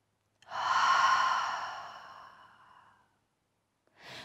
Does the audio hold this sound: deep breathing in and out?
yes